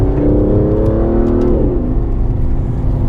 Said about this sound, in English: basically coming down through the gears, deciding when it's going to downshift